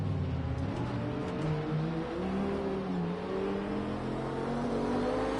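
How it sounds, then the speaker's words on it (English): A race car in Project Cars 2 runs alongside, its engine whining and revving up and down, loud and close throughout with no speech. "Car right next to me."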